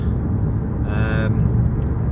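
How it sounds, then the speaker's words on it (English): Steady low engine and road rumble from a car driving on Scottish Highland roads near Kintail, continuous and close throughout, with a brief higher tonal whine in the middle; no talking. "we're back in the car and we're on the move."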